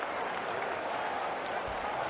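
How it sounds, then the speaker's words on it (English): At the EVO 2024 esports fighting-game tournament, a large crowd cheers and applauds in a steady, distant roar with no distinct individual voices. "And you can hear the crowd."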